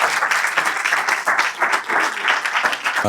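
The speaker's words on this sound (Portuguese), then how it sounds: "Eu pedi uma grande salva de palmas para o Presidente." An audience applauds for the president after a talk on depression, steady dense clapping from many hands, close and fairly loud throughout the short stretch.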